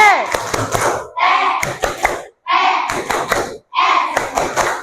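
A primary school class in a coding lesson performs the tepuk CTPS clapping chant, voices shouting letters in bursts punctuated by sharp unison claps, four rhythmic phrases separated by brief pauses.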